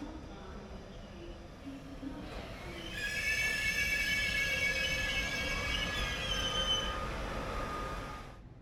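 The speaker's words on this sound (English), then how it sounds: "what will actually pull us to Vienna is arriving just a few minutes behind from the sidings" A Siemens Taurus locomotive rolls into Budapest Keleti station from the sidings with a high metallic wheel squeal that rises partway through and holds steady, fading slightly at the end.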